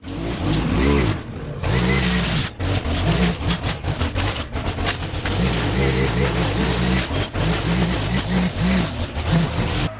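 A loud engine-powered leaf blower roars steadily at close range while clearing debris out of an overgrown garden, with brief dips in the drone.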